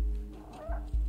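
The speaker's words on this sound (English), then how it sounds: "You can hear the cat Flynn, meow." A cat meows in the video game Stray, a brief close cry lasting about a second, with no talk over it.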